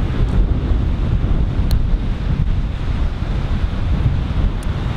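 Steady, strong wind buffeting the microphone, a continuous low roar with a faint wash of surf beneath it.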